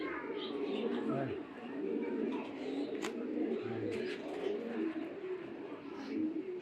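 Racing pigeons coo in low, throaty bursts close by, with a few sharper chirps and steady murmuring voices of people beneath throughout.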